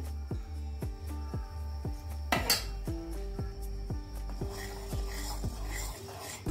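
A spoon stirs milk with cardamom in a metal pot, scraping and clinking against the sides in a steady, repeated rhythm. The clinks are close and clear over a faint background hum.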